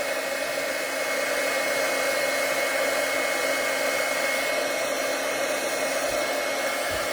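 A heat tool blows steadily while embossing a stamped image for a batik craft technique, producing an unbroken, loud whirring hum much like a hair dryer that runs alone without any pauses.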